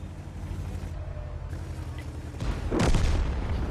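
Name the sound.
tank cannon shot in a tank video game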